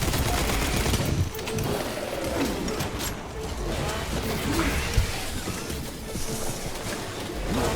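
Gunfire from the video game Warhammer 40k Space Marine 2 rattles on loud and continuous as dense automatic bursts, layered with mechanical battle noise and one sharper report midway.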